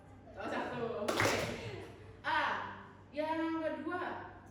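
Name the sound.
class clapping once on teacher's cue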